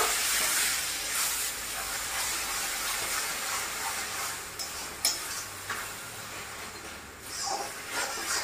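Chicken is stirred with ginger garlic paste in a hot pan for a Bengali snake gourd curry. A steady sizzle and hiss runs throughout, with occasional scraping strokes of the spoon, close and moderately loud.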